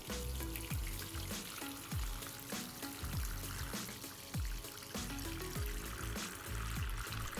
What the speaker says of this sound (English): Now I'm gonna start the timer and start filling up the water.